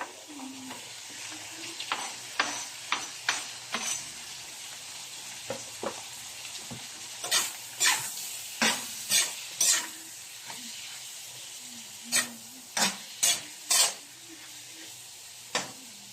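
Chili, onion and garlic sauté in a pan, a low steady sizzle running throughout while a spatula scrapes and taps in irregular bursts, several louder strokes clustered near the end.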